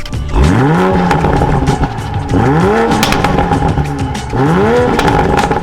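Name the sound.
sports car exhaust revving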